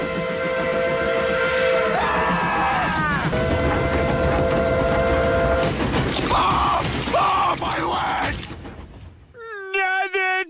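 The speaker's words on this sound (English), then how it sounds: "Train!" A loud train whistle blows in long sustained tones over rumbling rail noise, followed by clanking and a final whistle burst at the end, from the animated show Family Guy.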